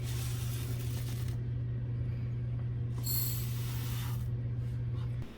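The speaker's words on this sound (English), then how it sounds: "I'm going to go ahead and grind the wheat" A grain mill grinds hard white wheat with a loud, steady droning whir and a hissing rush over it, running continuously up close before winding down at the end.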